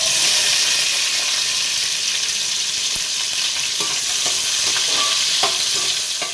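Onions and green chillies frying in a pan, with a steady close sizzle and occasional stirring scrapes of a utensil, and no voices throughout.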